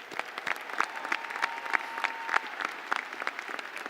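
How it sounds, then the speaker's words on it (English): A crowd at a fall commencement ceremony claps steadily for the graduates, a dense and fairly loud wash of applause that carries on through the whole stretch. "Everyone, a round of applause for all of these graduates."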